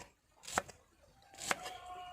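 A kitchen knife cuts shallots for a shrimp-paste chili dip, giving two faint, sharp strikes about a second apart against a quiet background.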